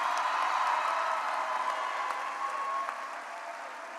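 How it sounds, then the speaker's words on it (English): A crowd at a Frederick Douglass High School graduation applauds the seniors, a steady, even roar of clapping from a large audience that holds at a constant level and eases slightly by the end. "can I get a round of applause for my seniors for making it through that?"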